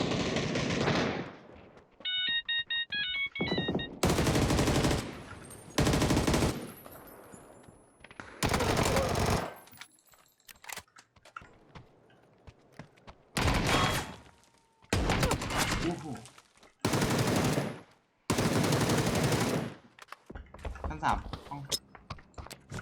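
Bursts of loud gunfire in a multiplayer shooter, coming in repeated rapid volleys separated by short lulls, with excited players talking and shouting between and over the shots.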